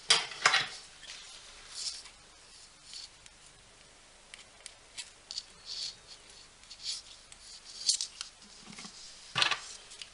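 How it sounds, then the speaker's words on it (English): Scissors snip off the excess thread of a tie-dye stripe macrame friendship bracelet, a few quiet, scattered cuts and small handling clicks close by, with light rustling between them. "you can just cut the excess off."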